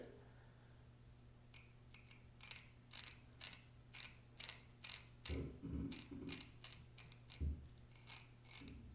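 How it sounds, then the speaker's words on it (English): A SuperWave detail razor trims a sideburn dry, giving a string of short, crisp cutting strokes in an uneven rhythm over a steady low motor hum, close and clear. "let's try it on the sideburn. I'm just going to do it dry so you can have a really good look at it."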